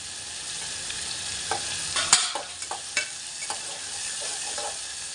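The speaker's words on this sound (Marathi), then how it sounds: "टोमॅटोमध्ये चांगले हलवून घ्यायचे." Tomatoes stirred and fried in a gaavran-style prawn curry masala, steady sizzling under repeated scraping and clinking spoon strokes against the pan, close and alone.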